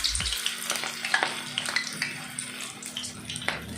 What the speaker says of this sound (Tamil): எண்ணெய் சூடான பக்கோடா போட வேண்டியதுதான்.